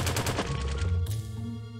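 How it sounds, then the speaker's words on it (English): Rumbling cave-in near a cave entrance in the video game Ocean's Heart, a dense rapid rattling roar that fades into a low lingering rumble, with no talking. "it sounds like some kind of cave-in back by the entrance"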